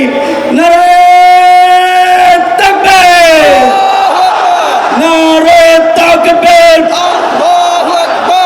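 Large crowd at an outdoor political rally in Bangladesh chanting a slogan in loud unison, led by an amplified voice, with rhythmic call-and-response shouts repeating across the span.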